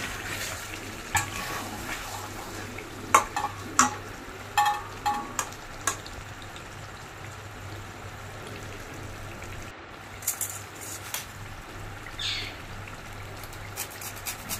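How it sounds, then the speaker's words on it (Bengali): Mutton is turned over and mixed in a pan under a faint background sizzle, with scattered sharp scrapes and clanks of the spoon against the metal. "তারপর আমি একবার মাংসটাকে ভালো করে নেড়ে চেড়ে মিশিয়ে নিচ্ছি।"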